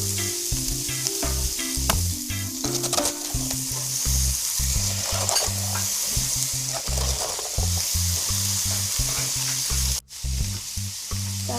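Cabbage, carrots and garlic stir-fry in a pan, giving a steady bright sizzle broken by regular scraping stirs of the vegetables, close and fairly loud with no talking.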